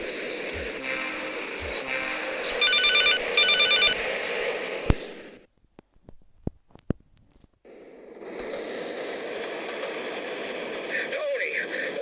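A telephone rings inside the video game GTA Liberty City Stories, loud repeated electronic ring bursts over steady game noise, with a short quiet gap and sharp clicks before the background sound returns.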